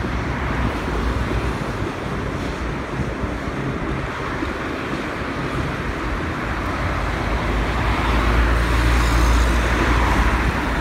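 Steady roar of car traffic along a big city boulevard in Morocco, a dense continuous wash of engines and tyres with wind, even and unbroken and swelling slightly near the end, with no voices.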